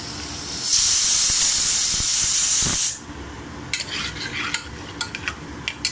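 Cumin and turmeric dropped into hot oil in a pan for mutton keema: a loud, bright sizzling hiss surges for about two seconds, then cuts off, followed by scattered light metallic clinks of a utensil against the pan.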